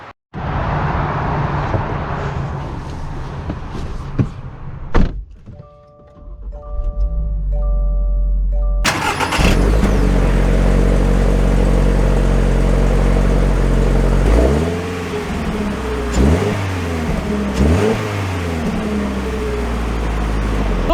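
A 2022 Toyota 86 base model fires up with a loud engine start, then holds a steady close rumble that swells and dips as the car pulls away and shifts through gears.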